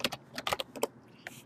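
Quick, light keystrokes on a computer keyboard while someone types into a notepad, a short irregular burst of close clicks with brief pauses between.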